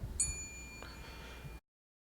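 A single bell is struck at a spelling bee, giving a quiet, bright ding that rings out briefly over faint room noise before cutting off.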